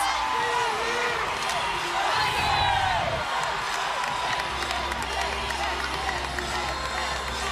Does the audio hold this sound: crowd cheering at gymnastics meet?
yes